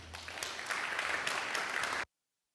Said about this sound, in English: give a round of applause for Robin